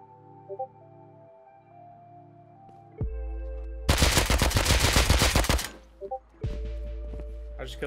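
Rapid automatic AK fire in the survival game Rust rips out in one loud, dense burst of almost two seconds, framed by quieter in-game tones and short thuds before and after.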